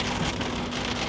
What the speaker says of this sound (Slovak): Len prší a prší.